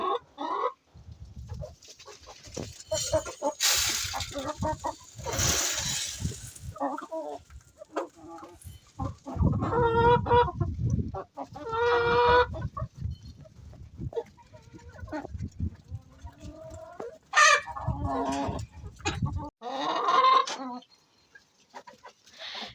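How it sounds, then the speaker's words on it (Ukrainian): Hungry hens cluck and squawk in bursts while being fed wheat on a home farm, with louder squawks near and softer clucking around, plus other barnyard animal calls in the background. "Курочки голодні, насиплю їм пшениці."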